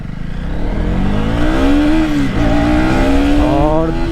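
A 2025 KTM Duke 250 Gen 3 motorcycle in track mode revs hard in first gear, its engine note climbing loudly and close, dipping briefly, then surging again.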